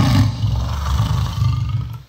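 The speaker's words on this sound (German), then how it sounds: "Das ist ein Löwe." A lion lets out one loud, deep roar, close and sustained for about two seconds with a rumbling low growl throughout, then it cuts off abruptly.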